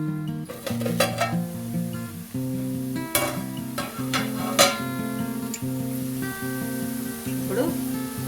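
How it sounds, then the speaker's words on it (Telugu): Carrots fry in a pan with a light steady sizzle, punctuated by occasional clinks and scrapes of a utensil against the pan, while someone talks over the cooking. "క్యారెట్ను మంచిగా ఫ్రై చేసుకోవాలి"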